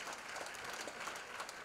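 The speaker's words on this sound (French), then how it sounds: "Je pense qu'on peut les applaudir." Audience applause fills a gala hall, steady broadband clapping at a moderate, slightly distant level without a break.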